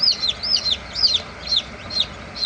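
Newly hatched chicks peep from a basket after hatching in an incubator: bright, high chirps repeat roughly twice a second in steady, close bursts over a faint background hush.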